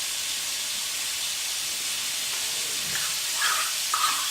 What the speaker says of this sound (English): Put in your coconut milk.